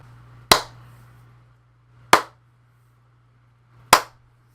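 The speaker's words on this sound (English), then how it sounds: "Steven Universe's basic attack is popping a bubble" Three sharp, bright pops spaced about a second and a half apart mark Steven Universe's bubble-popping attack in the Cartoon Network Battle Crashers video game, each short burst standing alone over a faint steady hum.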